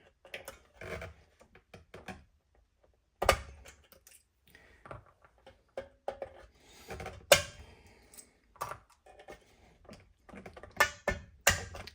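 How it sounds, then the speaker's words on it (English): Needle nose pliers pry the springs off the back of a guitar: a string of sharp metallic clicks, snaps and creaks, close and irregular, separated by short quiet gaps. "So let's pop off the springs."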